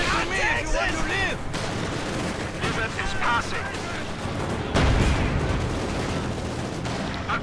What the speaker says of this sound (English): Regular mortar rounds going in.